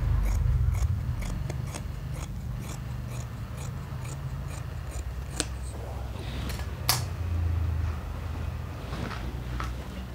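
Scissors snip through two layers of fabric in a run of crisp, regular cuts, close and fairly quiet, over a low background hum.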